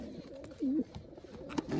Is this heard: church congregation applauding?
no